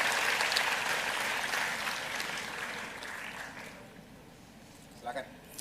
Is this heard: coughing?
no